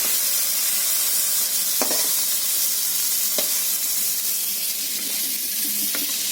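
Shrimp frying in hot oil in a kadai, a steady close sizzle and hiss with a few sharp clinks and scrapes of a utensil stirring in the pan.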